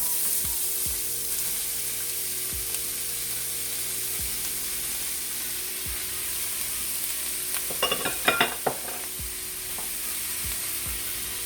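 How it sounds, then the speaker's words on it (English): A yellow onion sizzles in olive oil in a pan while cooking a vegan stew. The frying is a steady, quiet crackle, with a few soft utensil clinks and taps partway through and no speech. "We're going to add our onion, 1 yellow onion."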